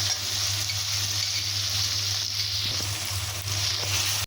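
Frozen onion and ginger-garlic paste fry in a pan with a steady, soft, even sizzle and a low background hum, with no voices.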